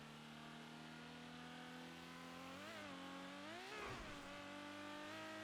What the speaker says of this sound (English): Definitely it's a bit of a noisy car.